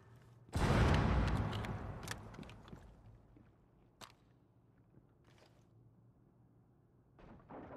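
An explosion blast in the mobile shooter Rainbow Six Mobile hits suddenly and loudly, then rumbles and fades over a couple of seconds, followed by scattered debris clatter and small impacts.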